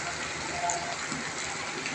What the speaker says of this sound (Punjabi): ਮੀਂਹ ਵੀ ਮੋਟਾ ਹੈ